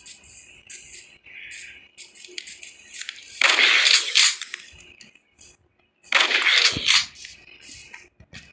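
Shotgun blasts in Minecraft during a zombie apocalypse survival game: two loud, broad bursts a few seconds apart, each with a short decaying tail, over a quieter bed of scattered game sounds.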